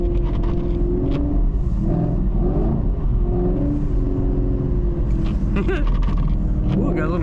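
A 2019 Chevrolet Camaro SS 1LE drives through a snowstorm with a steady, loud engine rumble and road noise, and a voice talks over it.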